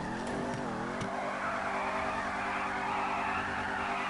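Ford Mustang drag car launching down the strip on a 150 shot of nitrous, engine roaring loud and steady close by, with rising harmonic pitch sweeps early on and tire squeal as it pulls away.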